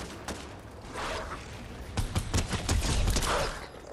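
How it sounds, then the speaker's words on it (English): Gunfire in Fortnite, with a run of sharp, quick shots in a couple of bursts over a steady background of in-game noise. "Shooting the person from behind."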